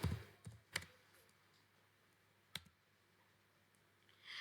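A few sharp computer keyboard clicks, spaced irregularly in an otherwise quiet room, each press crisp and close to the microphone.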